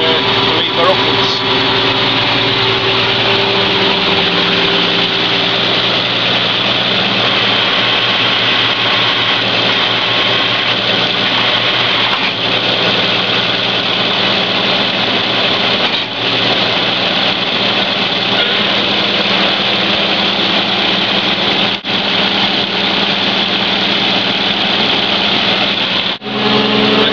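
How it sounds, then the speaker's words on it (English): A Land Rover MKII hydraulic winch winds its wire back onto the drum, giving a loud, steady engine drone that runs without a break for the whole stretch, with only a few brief dips in level. "So what we'll do now is pull the wire back up to the drum, which is just a by pulling the lever upwards."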